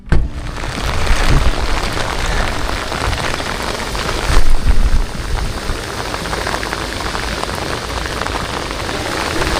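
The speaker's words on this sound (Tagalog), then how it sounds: "Ngayon po ay malakas po ang ulan. Talagang heavy rain." Heavy rain pouring down continuously near a dorm in a flooded area, a loud dense hiss of drops striking surfaces, steady throughout with a brief heavier burst partway through.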